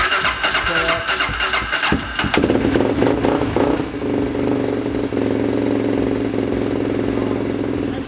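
A sport quad ATV engine is cranked and fires up, catching into a loud, steady idle with a rough, throbbing mid-pitched note close by, while a person talks over it.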